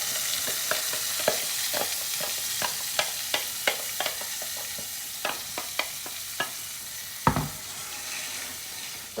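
Cumin seeds, asafoetida and spinach puree sizzling in hot oil for palak paneer, a steady hiss with sharp pops and spatters at irregular intervals, close and fairly quiet, with no speech.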